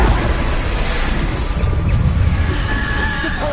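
A Bombarda spell explodes in the video game Hogwarts Legacy during a combat trial. The blast is loud and broadband, a dense, sustained roar of explosive noise that fills the whole moment without pause.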